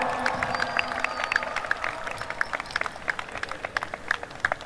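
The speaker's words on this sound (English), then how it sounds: "can we give your parents, your guardians, your siblings, your friends all a round of applause" Graduation audience at Benson High School applauding parents, guardians, siblings and friends, a steady wash of many hands clapping with scattered sharper claps, moderately distant and continuous throughout.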